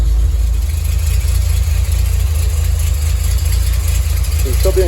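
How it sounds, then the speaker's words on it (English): A Datsun 240Z engine idles steadily after a cold start, having sat unused for a couple of weeks; a loud, even low rumble runs close and unbroken throughout with no talking. "For a cold start, it's been sitting here for a couple of weeks. Let it warm up a little bit"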